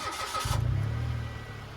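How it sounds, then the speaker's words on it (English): A car engine cranks briefly and catches, settling into a steady low idle, heard close and alone, while being checked with a Viking digital battery and system tester from Harbor Freight. "and then start the car"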